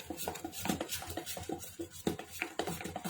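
A utensil beats urad dal batter for bhalle in a bowl, producing quick, irregular clinks and scraping pats, close and moderately soft, with no voices.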